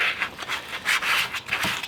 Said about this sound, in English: So I guess I'm gonna start sanding it off now.